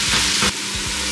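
Pasta sauce sizzling in a pan as it is stirred, a loud, close, hissing fry with a brief break where the spoon moves through, no voices.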